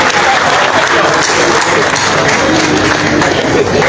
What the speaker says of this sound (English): Shall we clap again for the beautiful performance?